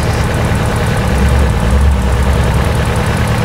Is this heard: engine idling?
yes